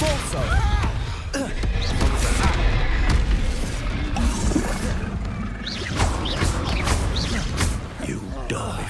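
Spell blasts cast in the Hogwarts Legacy video game, a dense string of loud crashing booms and whooshing impacts layered with combat effects, overlapping almost without pause. A player shouts spell names over the fighting.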